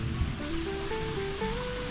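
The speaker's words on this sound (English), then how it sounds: "we have come up to a little stream here" A small stream called Pickle Creek flowing along a hiking trail, a steady rushing wash of water close by, faint and continuous with no voices.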